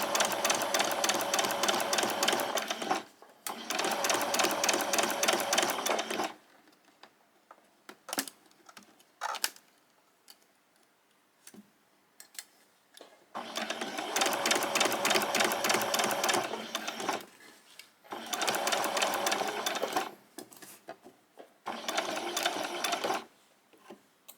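Running slowly around a curve, a sewing machine whirs in several separate bursts of a few seconds each, close and clear, with quiet pauses, small clicks and fabric handling between the runs.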